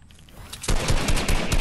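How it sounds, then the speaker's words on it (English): Rapid automatic gunfire from a shooting video game bursts in suddenly after a quiet lead-in, loud and dense with fast repeating shots, with no talking over it. "Press the shooting button."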